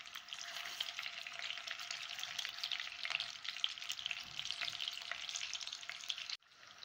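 Gola kebabs shallow-fry in a pan over a slow flame, giving a steady, close, even sizzle of hot oil that runs throughout and cuts off abruptly near the end.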